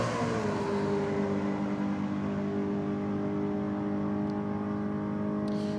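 Drag racing car on nitrous at a night 4WD drag event, a loud sustained engine note with steady harmonics after a brief rev at the start, continuous and close with no talk.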